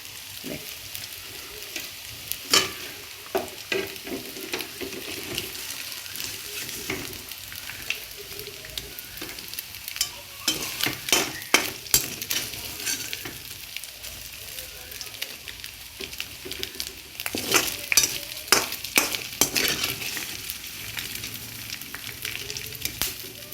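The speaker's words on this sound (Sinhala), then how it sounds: "දැන් අපි මේක ටිකක් බැදිලා තියෙන්නේ." Ingredients for Chinese chicken fried rice stir-frying in a pan, a steady sizzle broken by repeated sharp scrapes and clanks of the utensil against the pan, close and moderately loud throughout.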